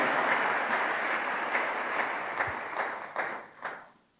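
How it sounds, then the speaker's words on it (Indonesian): A church congregation applauds, with dense, steady clapping that thins into a few scattered bursts and fades out. "Tepuk tangannya boleh yang paling meriah buat Tuhan kita."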